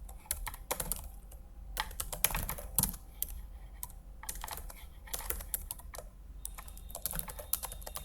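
Computer keyboard typing CSS code, a steady run of close, crisp keystrokes in quick bursts with short pauses between, no talk.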